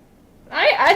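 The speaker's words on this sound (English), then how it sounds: "I have my phone nearby my mic and I'm just placing it down" A phone set down close beside a microphone makes a short, loud clatter that starts abruptly after near silence and rattles briefly to the end.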